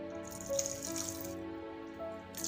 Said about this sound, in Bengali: তো এখন চলো জলটা ঝটপট দিয়ে নিই।